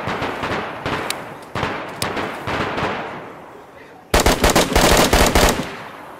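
Rapid automatic gunfire in the DayZ video game comes in several separate bursts, each trailing off into echo, before a final louder and denser burst near the end; close and forceful.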